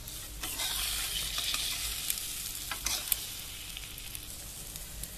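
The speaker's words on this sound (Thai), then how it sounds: "ไข่เจียวต้องไฟแรงๆจะได้หอมๆค่ะ" An omelette frying in a pan on high heat: a steady, close sizzle with occasional scraping stirs and a sharp tap, continuous throughout with no talk.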